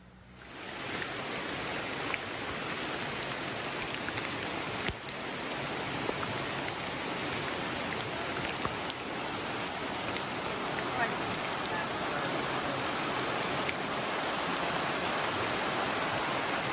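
Steady rain falls around an RV campsite, a dense, even hiss of drops that holds at a constant level for the whole stretch, close and enveloping with no voices over it.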